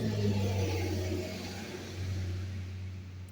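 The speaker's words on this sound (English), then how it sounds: "I'm by the roadside, and there's trucks that are passing" Heavy trucks passing along a roadside, a steady low engine rumble and whir that swells and eases slightly as they go by, loud and continuous with no talking.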